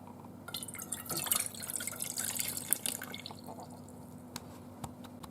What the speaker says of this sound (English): So I'm going to go ahead and add a 1/2 cup of water.